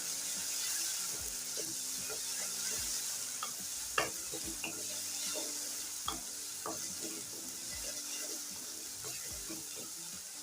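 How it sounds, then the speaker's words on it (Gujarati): Onion, ginger and green chillies being stirred in a frying pan for a cabbage and pea curry, a continuous sizzle broken by repeated scraping and clinking of a spoon against the pan. "ડુંગળીને આપણે હલાવી લઈશું એટલે આદુ મરચીને બધું સરસ રીતના હલાવી લઈશું"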